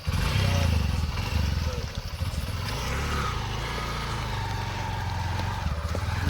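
A motorcycle engine runs steadily and loudly, with a continuous drone and slight revving as the bike rides off, close by.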